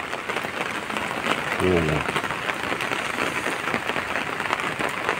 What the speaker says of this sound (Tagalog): At medyo naulan-ulan.